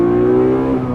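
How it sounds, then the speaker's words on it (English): A 34-year-old Honda NSX with a naturally aspirated V6 holds a smooth, loud, harmonically rich rev that eases slightly toward the end, heard close and alone without talk. "the engine note harmonically sounds so smooth"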